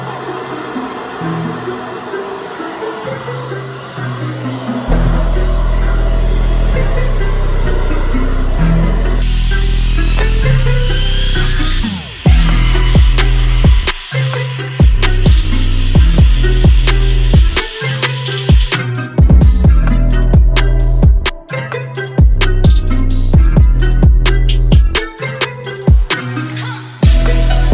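A blow dryer with medium, low and cool-shot settings straightening natural hair, its steady airy roar running beneath loud music with beats throughout.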